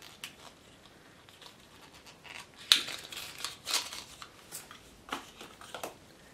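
Plastic and paper packaging of a one-gram brow product from a Glossybox beauty box being opened, heard as soft crinkles, snips and rustles in scattered close bursts, with a sharper crackle near the middle and no talk.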